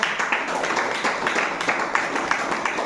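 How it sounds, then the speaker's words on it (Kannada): A small group claps for a friend's birthday, steady close handclaps with uneven rhythm lasting the whole stretch, no talk over them. "ಒಂದು ಜೋರಾಗಿ ಒಂದು ಚಪ್ಪಾಳೆ ಹೊಡಿರಿ"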